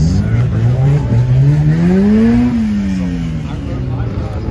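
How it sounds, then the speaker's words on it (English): A slammed Lexus pulls away from a street car takeover meet in Charlotte, its engine note rising smoothly then easing as it rolls off nearby, with crowd noise in the background. "Slam Lexus rolling out of here."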